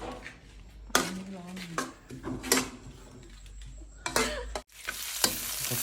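Dried chillies and garlic fry in oil for a Thai curry, a soft sizzle punctuated by loud stirring scrapes and clanks of a utensil against the pan, fairly close.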